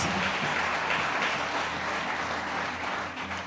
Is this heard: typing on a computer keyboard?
no